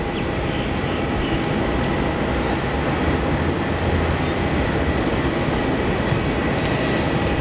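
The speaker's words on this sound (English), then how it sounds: "our next departure off runway 27 is ZL658 headed off to the Gold Coast. So Regional Express 737." A Regional Express Boeing 737 departing from runway 27 at Melbourne Airport: a steady, broad jet engine roar that holds at constant loudness throughout, with no voices.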